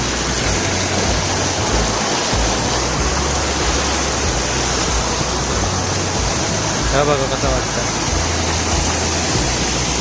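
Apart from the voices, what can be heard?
waterfall with rising water after heavy rain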